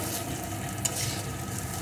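Fried gathi kochu (taro) is stirred with turmeric and salt in a hot pan, producing a continuous close sizzle with a single light scrape and no talking.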